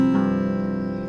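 An acoustic guitar in open tuning is fingerpicked in a repeating pattern, its notes ringing out clearly and sustaining up close with no voice over them.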